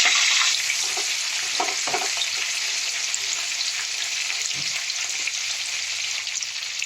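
Potato and cauliflower pieces fry in hot oil in a home kitchen, giving a steady, close sizzle with a few stirring knocks near the start.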